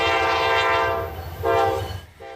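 A passing train sounds its horn in long, loud, sustained blasts that break off and return, while a steady low rumble of rail cars rolls beneath it, close and dominant.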